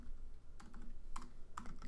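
Keys clatter on a computer keyboard as commands are typed, a few quick bursts of clicks with short pauses, close and fairly quiet over a low steady hum.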